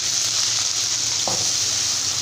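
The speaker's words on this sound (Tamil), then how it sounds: "கடுகு பொரிஞ்சு வர டைமில் வெங்காயம் சேர்த்துக்கிறேன்." Onion frying in oil with spluttering mustard seeds and urad dal: a steady bright sizzle with a single sharp pop midway, close and without speech.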